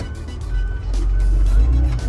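A Komatsu WA250-3 wheel loader pulls away in first gear, its engine giving a loud, steady diesel rumble that builds slightly and holds throughout.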